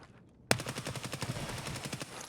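A sudden rapid burst of automatic gunfire erupts after a half-second of quiet in an Escape from Tarkov raid on the Factory map, with evenly spaced shots continuing loud and close to the end.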